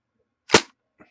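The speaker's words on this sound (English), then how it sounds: "Now, first thing we'll do is we'll remove the mags here." A magazine is pulled from an AR rifle, either an airsoft gas blowback model or a real steel one, producing a single sharp metallic clack up close, followed by a faint softer click a moment later.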